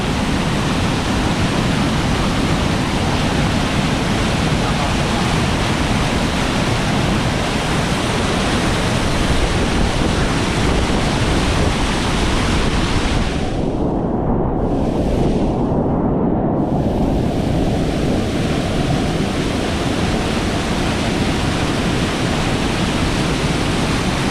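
Loud, steady roar of rushing floodwater churning into large whirlpools where a bridge was swept away, a dense broadband wash with no pauses throughout.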